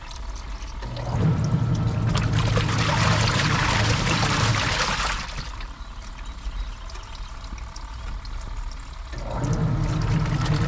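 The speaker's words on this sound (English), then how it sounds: "So load number 1 is being washed." A washing machine in a mobile home fills with water for the first load of laundry: a steady rushing pour for several seconds, a quieter lull, then the gushing inflow resumes near the end.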